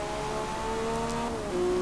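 A Lamborghini Revuelto engine in the Forza Motorsport game holds a steady, tonal hum that shifts pitch slightly near the end, loud and unaccompanied by any voice.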